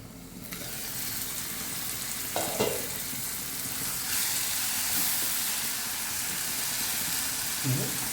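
Eggplant for baingan bharta cooks covered over a low flame, giving a steady close sizzling hiss that continues throughout with a few faint clicks.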